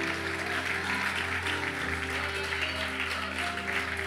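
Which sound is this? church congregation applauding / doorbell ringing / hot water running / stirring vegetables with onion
church congregation applauding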